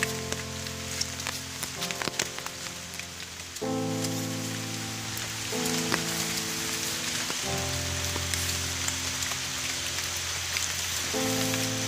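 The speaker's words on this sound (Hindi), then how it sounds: "अभी तो बारिश हो रहा है" Steady rain patters on surfaces in a dense Andaman jungle throughout, joined by a sustained tonal drone that shifts pitch in stages.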